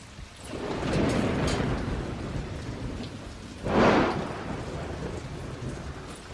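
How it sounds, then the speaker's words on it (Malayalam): Heavy rain pours steadily outside while thunder rumbles twice, the second clap nearer and louder, with no voices over it. "ഭയങ്കര മഴ പുറത്ത്."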